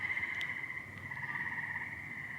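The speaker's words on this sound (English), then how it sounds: "The reason I'm out here tonight are the tree frogs." Tree frogs croak at night, a dense continuous chorus of many calls carrying steadily and loudly from nearby throughout.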